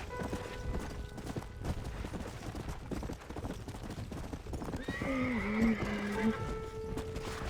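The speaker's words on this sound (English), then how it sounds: "It's a diseased horse, a horribly ill a horribly ill horse." Diseased horse in Red Dead Redemption: Undead Nightmare, with steady hoof clip-clops throughout and a shrill neigh breaking out near the end, set against game ambience.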